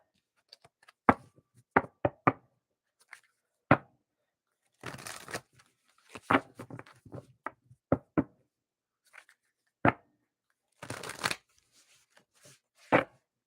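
Tarot cards being shuffled during a live reading, heard as a series of sharp, dry riffles and taps separated by pauses, with a few longer rustling bursts, close and fairly quiet with no talking.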